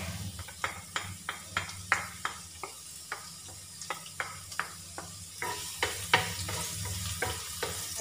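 Garlic sizzles in a hot pan while cooking humba, with a steady frying hiss broken by regular scraping strokes of a spatula stirring it, close and clear with no talk.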